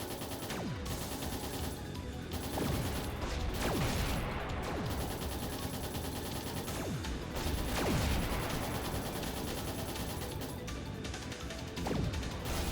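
Rapid gunfire and crashing impacts batter a missile in Trails in the Sky the 3rd, with repeated bursts and swooping hits running without pause, no talk.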